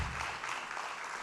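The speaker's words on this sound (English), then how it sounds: "Let's give him a warm welcome with your applause" A conference audience applauds to welcome a speaker to the floor, a brief, even wash of clapping at moderate level.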